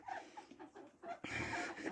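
A chicken clucks and squawks in a village yard as a duck attacks it, with agitated bird calls coming in bursts and turning into a louder, sustained commotion near the end.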